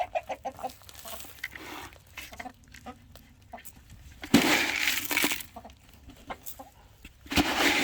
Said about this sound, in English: let's take some of this and see how these chickens like it